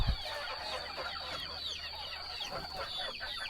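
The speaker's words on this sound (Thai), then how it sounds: "พวกนี้ก็จะเป็น ไก่บ้านเด้อทุกคนนี่จะเป็นไก่บ้านเนาะ" Domestic chickens on a farm cluck repeatedly, with a cluster of short chirpy calls close by over a quiet background hum.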